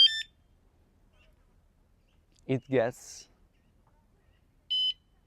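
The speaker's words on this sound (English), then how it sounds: "it is an alarm for motorbikes and bikes" Short electronic beeps from a bike anti-theft alarm sound at the start and again near the end, with a brief spoken phrase between them, close to the microphone.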